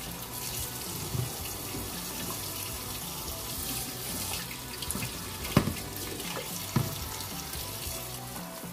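Steady running tap water splashes continuously, with occasional soft clunks and rustles of sandy perilla leaves being rinsed under the stream.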